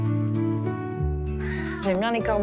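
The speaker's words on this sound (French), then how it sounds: "J'aime bien les corbeaux, ouais." Crows at the Puy du Fou park cawing loudly and close by: a few harsh, drawn-out caws in quick succession, clear and prominent.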